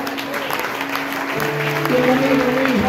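Applause fills a church service as a new convert comes forward, a steady wash of clapping with a held sung or organ tone and voices beneath it.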